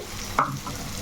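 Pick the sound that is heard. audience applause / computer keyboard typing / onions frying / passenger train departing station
onions frying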